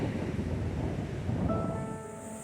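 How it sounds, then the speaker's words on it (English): Pacific surf rolls against the rocky Oregon coast at Cape Perpetua, a steady broadband wash of breaking waves with wind buffeting the microphone, fairly constant in level throughout. "The landscape and force of the waves here showcase the energy of the Pacific"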